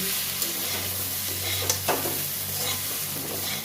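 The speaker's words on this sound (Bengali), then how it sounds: "আলুগুলো ভেজে নিচ্ছি এর বড়ার সাথে" Potatoes fry in oil alongside fritters with a continuous sizzle, broken by occasional scrapes and clinks of stirring. There is no speech.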